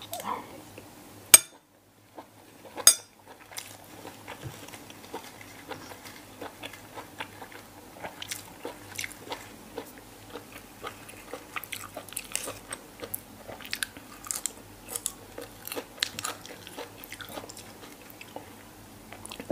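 Someone eats big mouthfuls of grilled pork tongue wrapped with fresh vegetables, with steady close wet chewing and crunching for the whole stretch, a couple of sharp clinks early on, and no talk.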